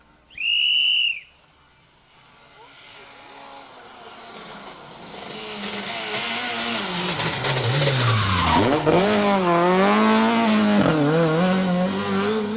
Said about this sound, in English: I can hear the car approaching now, that's good.